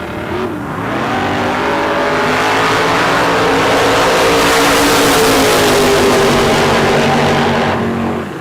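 Drag racing cars launching down the strip, engines roaring to full power in a loud sustained rising blast that builds over several seconds, then fades as they pull away, no voices over it.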